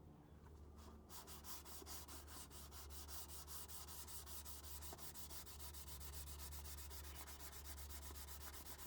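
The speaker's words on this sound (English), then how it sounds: "I'm gonna lightly sand it one more time, just very, very lightly." Light hand sanding of a rusty repair patch on a GMC Jimmy's bodywork: a steady, close, continuous rhythmic rasp of strokes that keeps going through the whole stretch, with no talking.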